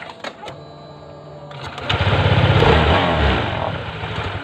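Honda Vario 160 scooter whose starter makes a slipping 'sleg' noise while the engine fails to start: a rattling mechanical whir builds into a loud, rough buzzing crank close to the mic, then tapers off.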